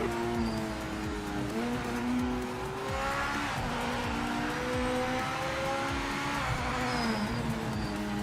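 A racing car engine drones and climbs through gear shifts, its pitch rising and dropping as the car accelerates, with some tire squeal underneath.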